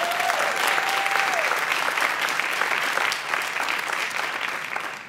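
Sustained applause from a theater audience at a ballet company's talk with its creative team, steady and dense for about five seconds before easing off slightly at the end.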